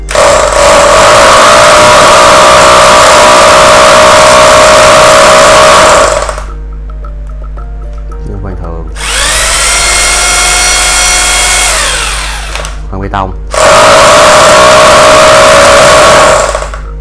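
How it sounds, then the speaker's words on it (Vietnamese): A Bosch three-function 220 V electric drill is run in concrete hammer-drilling mode in loud, close bursts. A long rough burst is followed by a pause, then a smoother whining run and another harsh burst, with no talk. "chức năng khoan bê tông"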